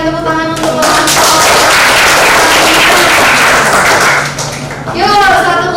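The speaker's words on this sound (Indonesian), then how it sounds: "Oke, berikan tepuk tangan untuk kelompok." Classroom students clap for a group after its presentation, a loud, dense patter of hands filling several seconds with voices mixed in throughout.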